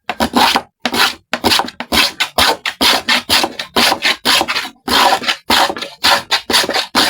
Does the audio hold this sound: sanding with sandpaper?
yes